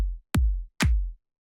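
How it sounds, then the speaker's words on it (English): Electronic kick drum and clap struck together twice in an Anjunadeep-style track, each hit a deep booming thud with a sharp bright snap on top, loud and isolated with silence between. "the kick and clap sound like this together"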